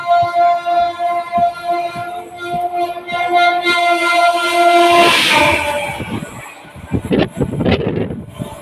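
Loud rumble and rattle inside the Kanchanjunga passenger train rolling through Dinajpur, with a long sustained horn blast over the steady running noise, then clattering wheels and wind buffeting as the horn stops.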